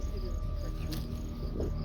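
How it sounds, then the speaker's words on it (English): Crickets chirp steadily in an open field at night, a continuous high trill that sits over a low background rumble. "There's crickets down"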